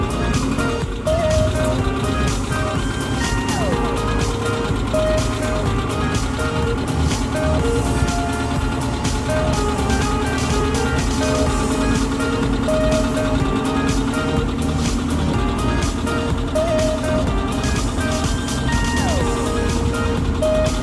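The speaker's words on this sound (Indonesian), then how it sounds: "Kita hidupkan dulu mesinnya ya" A car engine idles steadily after starting, a loud continuous drone with a constant low hum and no break across the whole stretch, filling the scene without talk.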